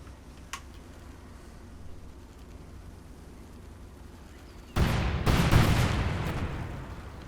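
M83 cluster bombs from Company of Heroes 2 go off in a sudden loud burst of overlapping blasts partway through, after a stretch of quiet low rumble with one faint tick early on.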